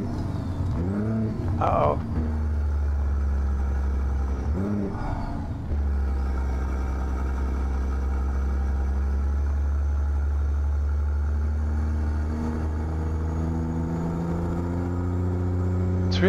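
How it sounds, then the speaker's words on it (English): A heavy truck engine in American Truck Simulator drones low and steady as it climbs a mountain grade, with pitch shifts during downshifts and rising revs near the end, while someone talks over it. "Oh boy, we'll be shifting down early here."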